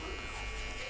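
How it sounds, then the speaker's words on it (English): Electric hair clipper buzzing steadily and close during a skin fade haircut, a brief, continuous high whine used at the blade corner for point cutting. "I'm going to use the corner of my clipper"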